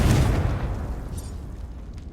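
In Hogwarts Legacy, a Confringo fire spell blasts with a sharp, loud burst at the start, then decays into a fading rumble over a couple of seconds, with no voices.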